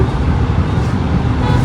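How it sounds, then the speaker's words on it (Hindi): Steady city road traffic in Indore, India, passing near a flyover and metro construction, with a continuous close rumble of cars and other motor vehicles and no clear talk. "ये है इंदौर का ट्रैफिक"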